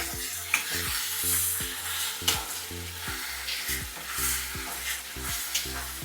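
Ground tomato being stirred into a frying chicken curry masala, with steady sizzling and repeated spoon scrapes against the pan in a regular rhythm, close and moderately loud.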